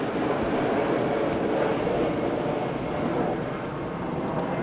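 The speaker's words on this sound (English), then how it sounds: "there's an airplane in the room right now. Yeah, it's a very big airplane. It is right over our head." A large airplane passes overhead above a disc golf course, a loud steady jet roar that holds throughout with only a slight easing toward the end, no talk over it.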